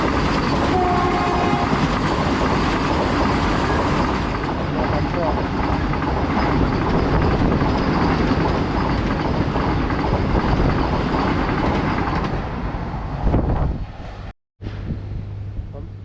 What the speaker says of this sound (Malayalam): അതിനിടയിൽ ഒരു ട്രെയിൻ വരുന്നുണ്ട്